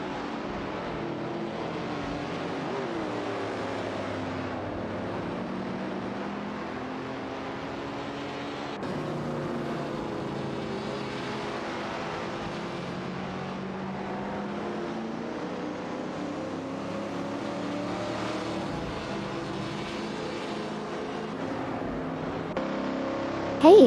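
A race car's engine drones steadily in an AI racing game, a smooth continuous rev that holds at an even level throughout.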